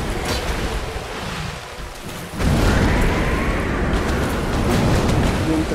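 Wind gusts through Dark Souls during the Sanctuary Guardian fight as a steady, full whooshing roar that suddenly grows louder midway and holds, with no one speaking.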